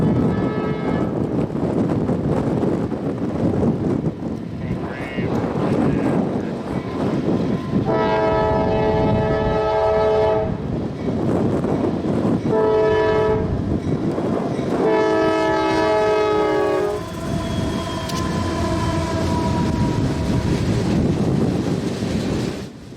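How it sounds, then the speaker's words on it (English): Southbound Q403 manifest freight train rumbling steadily past up close, with repeated loud horn blasts in several bursts over continuous wheel and car noise. "Q403 is southbound manifest traffic bound for Greenwich Yard, with work at Manville, New Jersey and Woodbourne, Pennsylvania."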